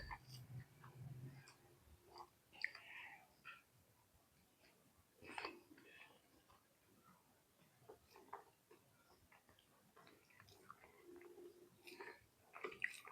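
Close, quiet chewing of rice with meat gravy, soft wet mouth sounds in irregular bursts with brief pauses, no talking.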